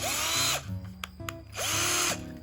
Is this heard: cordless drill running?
yes